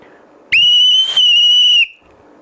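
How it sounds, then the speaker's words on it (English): Small 3D-printed whistle with a pea inside, blown once and loud, giving a sharp high steady shriek about a second and a half long with a slight trill midway, over quiet room noise. "This is a little whistle that I downloaded off of Thingiverse."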